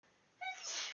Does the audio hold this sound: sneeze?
yes